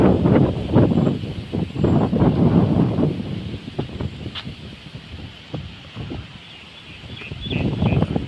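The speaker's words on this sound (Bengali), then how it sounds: "দমকা বাতাস হচ্ছে।" A strong, gusty storm wind blows among coconut trees during rain, with heavy rumbling buffets against the microphone that surge, ease off in the middle, then build again.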